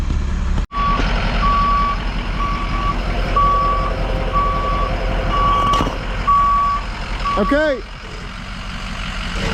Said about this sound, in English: This is a pretty good load on this truck.